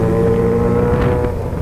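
A car sounding off in city traffic, heard as a loud, close engine drone with a steady hum and wind buffeting over a brief moment.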